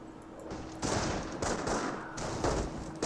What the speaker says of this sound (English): the Rifleman squad here is receiving quite a bit of fire